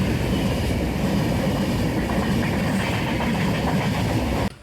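A train pulls into Bhatkal station at night, giving a loud, steady rumble of wheels and engine close by that continues throughout and cuts off abruptly at the end.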